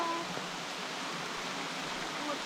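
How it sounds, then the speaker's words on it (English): Rain falls on a creek, making a soft, steady hiss of broadband wash at moderate distance, with a few faint tonal traces over the continuous patter. "the rain started again"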